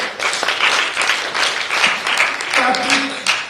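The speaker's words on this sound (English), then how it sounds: "Big round of applause for Paul." Loud, dense audience applause at a sustainability awards event, many hands clapping steadily with a voice briefly heard in the background near the end.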